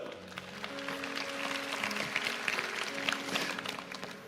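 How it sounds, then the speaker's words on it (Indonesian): A church congregation claps together, a steady dense wash of applause over sustained background music, with a few louder claps standing out. "kasih tepuk tangan untuk Tuhan"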